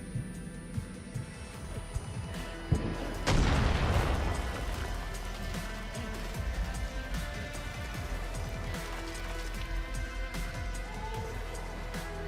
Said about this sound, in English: Those are the mortars.